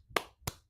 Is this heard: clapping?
yes